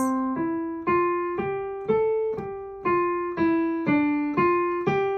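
A piano plays a slow legato line of single notes rising and falling, each held and flowing smoothly into the next with no gaps.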